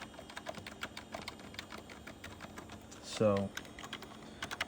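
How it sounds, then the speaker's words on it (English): Keys clack on an old Gateway 2000 P5-90 tower PC keyboard, caps lock and F1 pressed in a steady rapid series of close, crisp taps, with someone briefly speaking over them. "I'm hitting the caps lock button right now and hitting F1 at the same time"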